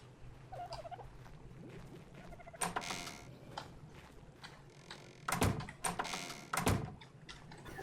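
A door is operated in the video game ARK Survival Evolved, with a few short sliding or knocking bursts over a busy ambient game soundscape that includes gobbling animal calls.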